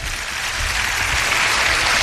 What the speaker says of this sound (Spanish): un aplauso a la gente que habéis estado aquí.